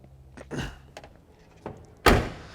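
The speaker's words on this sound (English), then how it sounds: "Both doors open and close with ease." Doors of a 1967 Chevrolet Camaro thud shut with solid clunks, a softer close first and a louder slam near the end, with faint handle clicks between.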